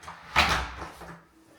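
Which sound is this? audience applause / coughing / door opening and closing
door opening and closing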